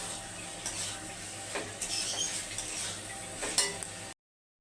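Cauliflower florets being stirred and fried in a pan for a korma, with a steady low sizzle and intermittent scraping and clinking of a utensil against the pan throughout, no voices.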